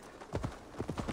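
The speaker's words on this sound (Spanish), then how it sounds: "vamos a llamar al caballo" A horse's hooves clip-clop in Assassin's Creed Valhalla, a few quick uneven hoofbeats at close range over a faint game background, with no talk over them.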